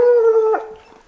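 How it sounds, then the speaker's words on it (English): A hunting dog's long, steady howl with rich harmonics during a cougar hunt, fairly close, breaking off partway through into a quieter whimpering tail. "we can hear the dogs now"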